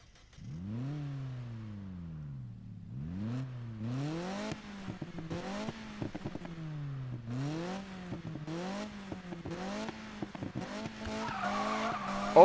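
Mazda Miata launching in the Need for Speed 2015 video game: engine revs repeatedly climb and fall through gear changes, with tire skid and squeal noise building toward the end, all fairly quiet.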